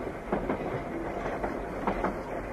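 A small park train at the Efteling theme park runs along its rails with a steady rumble and rhythmic clickety-clack of wheels over the joints, continuous and fairly loud.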